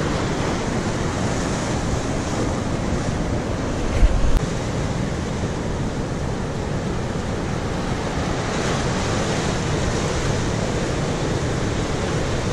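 Ocean surf rolls in on a shore as a steady, loud, continuous roar, mixed with some wind buffeting the microphone and a brief bump partway through. No voices are heard.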